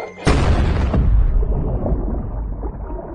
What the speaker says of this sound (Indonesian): Hingga sepersekian detik ledakan pun terjadi di kedua titik.